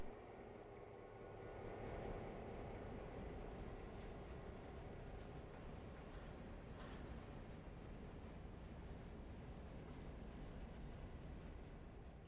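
A diesel locomotive runs in the train simulation game Railroader, giving a continuous low engine drone and rolling rumble that stays even and moderately loud for the whole stretch, with no talk.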